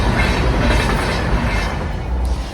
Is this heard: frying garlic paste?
no